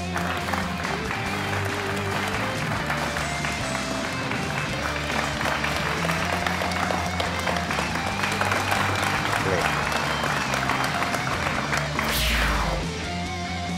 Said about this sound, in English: A round of applause to all the teams